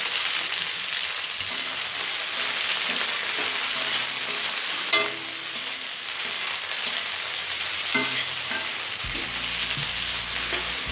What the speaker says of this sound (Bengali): এখন দিচ্ছি কুচি নেওয়া দুটো মাঝের সাইজের পেঁয়াজ